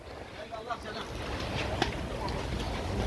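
Steady low rumble of wind buffeting the microphone at an outdoor livestock market, loud and continuous throughout, with a brief thump near the middle.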